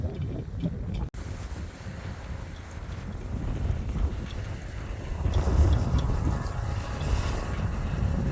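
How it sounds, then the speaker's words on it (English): Strong coastal wind on Dauphin Island, Alabama, roars and buffets the microphone in a continuous rumbling wash, swelling louder toward the end, with no voices. "it's really windy"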